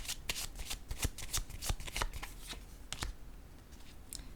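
Tarot cards handled on a table make a quick run of crisp, papery flicks and soft taps, close and fairly quiet, thinning out toward the end.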